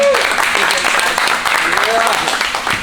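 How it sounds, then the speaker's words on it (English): Loud round of audience applause at a live comedy-style show, a close, dense burst of clapping with a voice speaking over it. "Guys, can we get a big round of applause?"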